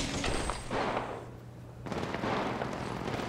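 Video game gunfire crackles in dense bursts, a sustained rattle of shots that pauses briefly mid-stretch before resuming at full intensity, with no talking over it.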